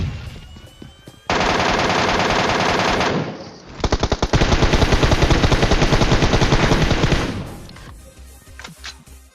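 Loud, close automatic weapon fire in PUBG Mobile: a long sustained burst, a brief gap, then another extended rapid volley, tapering into a few isolated shots.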